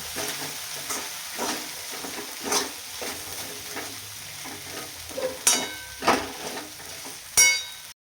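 Spoon stirring sabudana khichdi in a hot pan, with repeated scraping strokes and a soft sizzle underneath, close and fairly loud, no talking.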